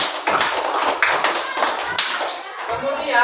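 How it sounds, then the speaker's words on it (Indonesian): Schoolchildren in a classroom clap together for a classmate, a rhythmic burst of close hand claps with young voices mixed in. "Beri Aisyah tepuk tangan."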